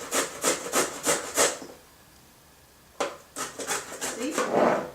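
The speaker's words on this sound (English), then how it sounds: "Get my sweet potato. Same thing. Grate it up." Sweet potato and other vegetables are rubbed by hand across a kitchen grater in quick rasping strokes, with a short pause between two bursts of scraping, close and clear.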